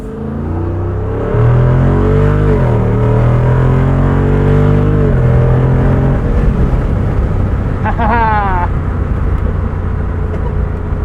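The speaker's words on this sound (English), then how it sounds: "It has a unique exhaust." A 2024 Jeep Wrangler 392 V8 exhaust while driving, a loud, close, deep drone whose pitch rises and falls with the revs. The engine note holds steady between changes, and a brief voice is heard near the end.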